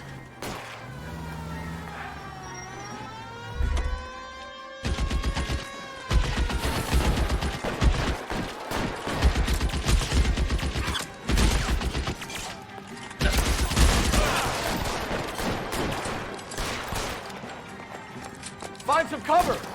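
A shootout in the L.A. Noire video game, with scattered gunshots and bursts breaking out among voiced character dialogue and shouting, loud intermittent cracks after a quieter opening.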